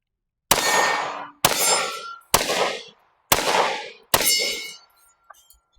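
Five sharp pistol shots from a Canik Mete MC9 firing CCI Blazer 115 grain full metal jacket rounds at an outdoor range, evenly spaced about a second apart, each loud crack trailing into a short decaying echo, with no talking.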